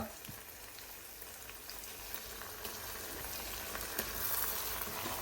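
Spices fry and get stirred in a pan, a soft, steady sizzle with faint scraping that continues throughout, no talking.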